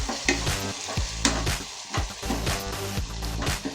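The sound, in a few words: stirring ground masala into sizzling chicken gravy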